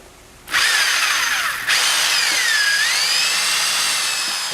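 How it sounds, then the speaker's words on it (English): A power drill bores through a metal part clamped in a vise, a loud high whine starting abruptly, briefly dipping, then resuming with pitch sliding down and up under load before leveling off. "After I drill through"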